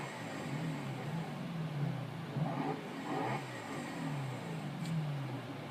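A 2011 Lotus Evora S engine in Forza Horizon 2, a quiet mid-pitched drone that swells and eases through a few gentle revs, steady and fairly distant with no voices.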